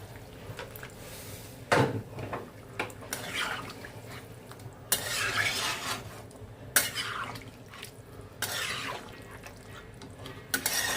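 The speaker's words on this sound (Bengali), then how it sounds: "এবার এর মধ্যে দিয়ে দেবো গরম জল যেটুকু গ্রেভি লাগবে ওই হিসাবে জলটা দিচ্ছি" Hot water poured into browned Bengali-style chicken curry in a pan, heard as intermittent splashy, hissing bursts with a few sharp clinks in between, fairly close and moderately loud.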